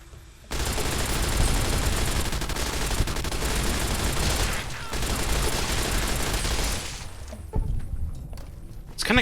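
Automatic weapon fire in Fallout: New Vegas, a long, loud, rapid burst of shots that runs for several seconds, pauses briefly, resumes, then tails off into quieter game sounds.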